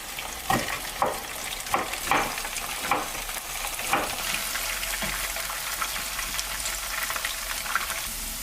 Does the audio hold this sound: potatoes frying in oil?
yes